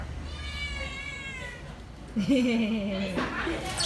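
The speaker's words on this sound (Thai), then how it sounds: "แมวมาหา" A cat gives a clear, drawn-out meow close by, following someone talking.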